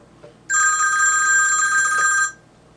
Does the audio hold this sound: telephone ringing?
yes